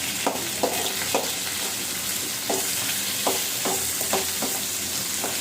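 Stinging catfish and chicken pieces fry in a pan on the stove: a constant loud sizzle, broken by repeated clinks and scrapes as the pieces are moved and arranged.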